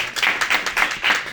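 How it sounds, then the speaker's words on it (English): An audience at a Whitestone community candidate night claps after a speech, a brief burst of steady, fairly close applause from a modest crowd with no speech over it. "2-second claps."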